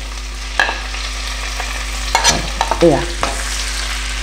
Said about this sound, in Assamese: এতিয়া এই তেলখিনিত মই নহৰু আদা এই যে গুটি গুটি কৰি সৰু সৰুকৈ কাটি লৈছিলোঁ এইখিনি ইয়াত দি দিছোঁ দেই